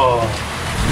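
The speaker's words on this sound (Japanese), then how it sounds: "本当今これ集中豪雨がね降ってるんだけど" Torrential downpour during a heavy cloudburst at a house prone to underfloor flooding: a dense, loud, steady hiss of rain across the full clip.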